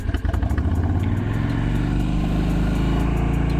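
A 2001 Yamaha Dragstar 250 cruiser motorcycle engine settles into a steady, close idle with a rhythmic mechanical chug after starting, alone without talk.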